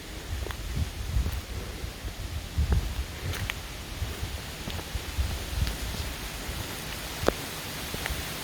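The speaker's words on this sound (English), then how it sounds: "And it's still raining" Steady rain falls in a forest after a passing thunderstorm, a soft, even hiss of drops on leaves with scattered light patters and rustles, fairly faint and without any talking.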